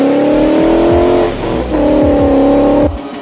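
Ford Mustang V8 engine roars close and loud in two hard-revving bursts, dipping briefly in between before surging again, then cutting off abruptly.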